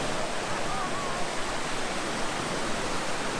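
Dense, steady rushing of a hot river at the Las Grutas de Tolantongo hot springs, a continuous broadband wash heard close with no breaks or voices.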